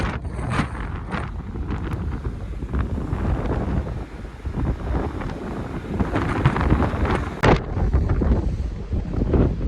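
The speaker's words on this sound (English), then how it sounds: "The wind's still gusting a bit, but it seems to have simmered down a bit." Strong, gusty wind on a ferry deck at sea buffets the microphone in loud rumbling bursts, with a steady broadband roar beneath, rising and easing throughout.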